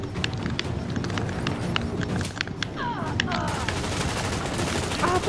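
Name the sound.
gunfire in The Division video game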